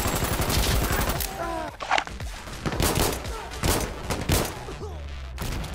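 M3 grease gun submachine gun firing in Insurgency: Sandstorm: loud, close bursts of rapid automatic shots in repeated volleys with short pauses between them.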